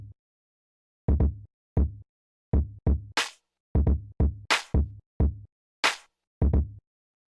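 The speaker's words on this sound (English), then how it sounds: "the kick sounds like this" A boom bap kick drum pattern plays alone, punchy low thumps in a loose, swung rhythm, some hits in quick pairs, with brief bright percussive hits between them.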